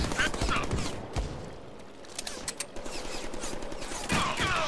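Rapid gunfire bursts and scattered shots ring out in a Deadpool video game firefight, loud and dense across the whole stretch with game noise beneath.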